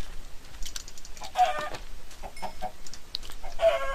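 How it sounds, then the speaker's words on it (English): Chickens cluck in a video game, a few short, scattered clucks and squawks at close range over a quiet background, with no talking. "Chickens are so easy to kill."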